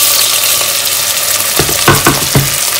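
Chopped onion sizzles in heated fat in a cooking pot, a steady loud frying hiss with a few sharper crackles and stirring knocks near the end.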